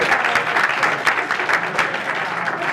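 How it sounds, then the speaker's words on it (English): An audience at a live mermaid variety show claps in a dense, close burst of applause that stays even and full throughout with no break. "Tip, give Tiffany a big round of applause."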